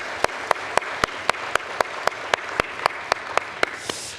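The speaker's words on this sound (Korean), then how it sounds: "우리 오늘 이날에 예배를 주신 하나님께 영광의 박수 올려드립시다" A church congregation at a Sunday worship service claps in unison. The beats are sharp, loud and evenly spaced, about four per second, with a brief swell of scattered applause at the end.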